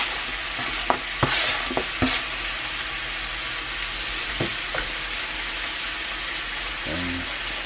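Mushrooms and jalapenos fry in a cast iron pan with a steady sizzle, broken by a few sharp stirring scrapes and clanks near the start and a soft knock toward the end.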